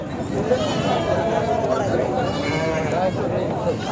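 Goats and sheep bleat at a busy Sunday livestock market in Sangola, their calls mixed into the close chatter and babble of people talking nearby.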